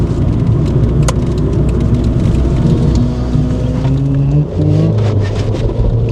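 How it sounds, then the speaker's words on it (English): A 2-litre, roughly 130 horsepower Rover 75 accelerating hard with wheel spin, its engine droning loud and steady from inside the car with rising tones and a brief dip near the end. "Do you reckon that's the first time a Rover 75's been wheel spun?"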